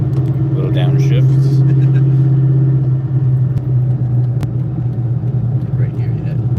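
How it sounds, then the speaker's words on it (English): Inside a Mustang Terminator Cobra, the engine drones loud and close as it downshifts, its low rumble shifting pitch partway through, while a voice speaks faintly under the engine. "Little downshift."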